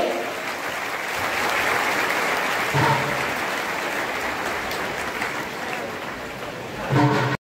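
Sustained audience applause fills a Maharashtra Police academy felicitation ceremony for successful students, a dense steady clapping crowd throughout with a brief voice near the end.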